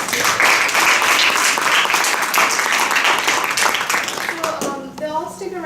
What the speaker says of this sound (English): Let's just give it one more round of applause for all our speakers.